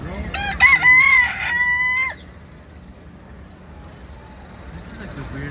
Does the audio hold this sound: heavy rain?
no